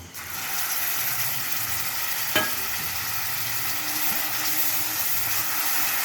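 Onion paste fries in hot oil spiced with cinnamon and a bay leaf, a loud steady sizzle with one sharp clink partway through and no talking.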